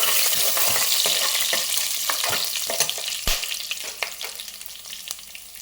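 Green chilli sizzles and crackles as it fries in hot oil with ginger for millet pongal, a steady close frying hiss broken by sharp pops and stirring clatter, with no talking.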